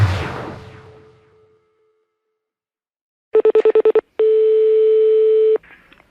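A fading hit of sound gives way to silence, then a landline phone plays a fast run of dialing tones followed by a long steady tone, heard clearly and alone just before a prank call.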